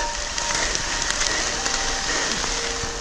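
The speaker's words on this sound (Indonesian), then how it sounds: "Apabila hujan seperti ini, ya sudahlah." Heavy rain pours steadily over a water-channel hiking trail on Mount Kerinci in Sumatra, a loud, dense hiss of drops on the ground and surrounding foliage filling the whole stretch without a break.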